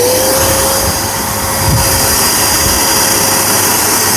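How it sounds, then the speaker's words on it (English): A battery-powered DJI 2000 portable power station runs a vacuum that drones loudly and steadily, a close, dense whine with a faint steady tone and no pauses. "All right, let's go ahead and turn on our vacuum."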